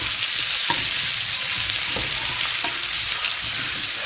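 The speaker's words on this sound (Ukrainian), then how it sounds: "тепер обжарюємо" Pumpkin frying in a pan for an English-style ragout, a loud, steady hiss of hot oil with a few soft knocks as it is stirred, no voices.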